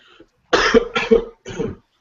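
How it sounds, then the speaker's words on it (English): Three harsh coughs in quick succession, close to the microphone, after a short pause of near silence. "I gotta do something about this cough"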